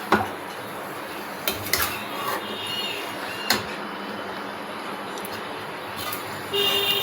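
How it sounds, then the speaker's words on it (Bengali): Mutton is stirred and fried in an open kadai, with a metal spatula clinking and scraping against the pan in a few sharp knocks over a low steady background. "আমি মাংসের সঙ্গে ভালো করে কষিয়ে নিচ্ছি মাটনটাকে"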